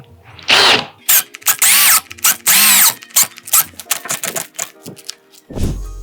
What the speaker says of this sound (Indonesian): Kita akan coba speed nomor 2. Gue pakai auger bit ukuran 10 mili.